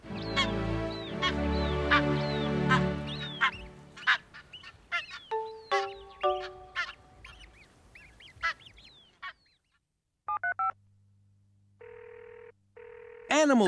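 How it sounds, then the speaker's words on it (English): A noisy mix of geese honking and ducks quacking, many overlapping calls at first, then scattered separate squawks thinning out, with electronic tones at the end. "Geese and ducks are some of the noisiest birds."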